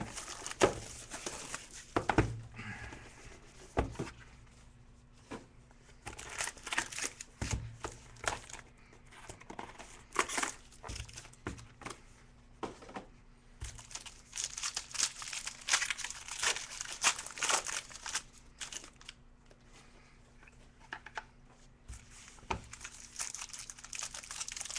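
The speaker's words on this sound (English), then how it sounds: "Ripping a box of 2014 Black Gold Football for Steve B. Burba" A box of 2014 Black Gold Football trading cards being torn open and handled, with repeated crinkly tearing and rustling of wrappers and card stock, close and fairly quiet, in irregular bursts with brief pauses.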